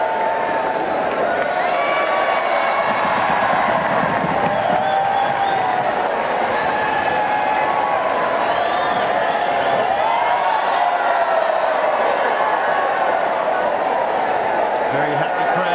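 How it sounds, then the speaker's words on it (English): Crowd at the 2008 Australian Open, during a third-round tennis match between Roger Federer and Janko Tipsarevic, applauding steadily with cheers and whoops throughout, a commentator's voice talking over the ovation. "Very happy crowd in here"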